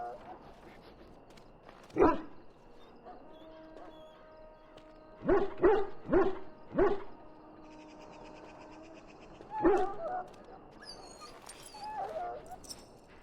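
A dog in the Dragon Age video game whimpering and yelping in short bursts, one at first, then a quick run of four and a later pair, over quiet game ambience with tonal sounds and no speech.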